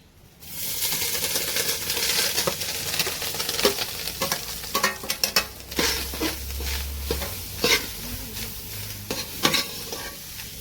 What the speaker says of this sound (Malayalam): ഇതിത്രയും ആദ്യം തേങ്ങ ഇട്ടതിന് ശേഷം ഇതെല്ലാം കൂടി ഇട്ട് വേണം ഒന്ന് വറുത്തെടുക്കേണ്ടത്